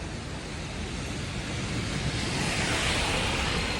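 A drain running full to the brim with fast-flowing water, carrying rubbish and plastic along in Malaysia, gives a steady, dense rushing roar close by with no break, swelling slightly louder toward the end.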